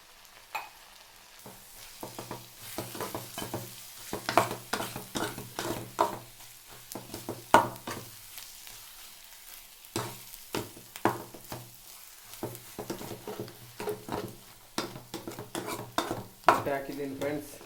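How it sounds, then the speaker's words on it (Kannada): Eggs sizzle in a hot pan for egg rice while a spatula stirs and scrapes repeatedly, giving close rhythmic scraping and clinks over a steady frying hiss. "ಇವಾಗ ಇದು ಚೆನ್ನಾಗಿ ಫ್ರೈ ಆಗಬೇಕು"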